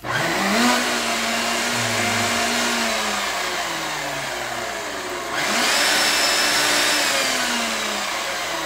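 A Hilti TE70 jack hammer runs in chipping gun mode, giving a loud, steady buzzing clatter with a droning motor tone that wavers in pitch. It dips briefly midway before surging back at full strength.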